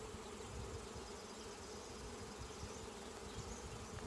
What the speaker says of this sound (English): They are not happy bees.